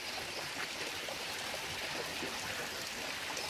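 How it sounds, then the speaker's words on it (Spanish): Small waterfalls at a hacienda in Huasca de Ocampo make a steady, close rushing of falling water that holds constant throughout, with no voices over it. "Estas caídas de agua."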